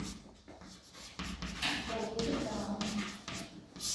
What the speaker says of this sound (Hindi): तो यहाँ पर लिखेंगे